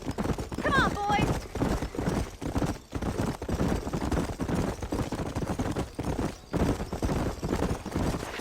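Horses' hooves clip-clopping in the video game Red Dead Redemption, a brisk rhythmic trot with a short whinny early on, under voices talking.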